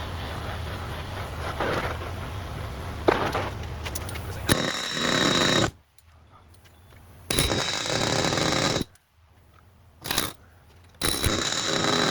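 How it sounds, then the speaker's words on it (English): A pneumatic air hammer on the axle of a 2014 Infiniti QX60 gives loud, harsh mechanical hammering in sustained bursts, with abrupt stops and brief quiet gaps between runs, close by. "ran my air hammer at the same time, and that got it out"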